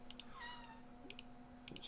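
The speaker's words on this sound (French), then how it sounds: "Excusez, mon chat m'appelle." A house cat meows faintly a few times nearby, with soft keyboard typing and clicking in the background of a quiet indoor room.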